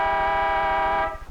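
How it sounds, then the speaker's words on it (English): A car horn honking in one steady, loud, sustained blast on a street near a frightened horse, cutting off abruptly after about a second. "More horns blew."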